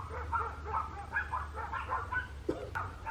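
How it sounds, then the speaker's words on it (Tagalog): Many dogs barking and yipping together nearby in a yard, a busy overlapping chorus of barks over a low background rumble. "Oh my God, ang daming aso nito."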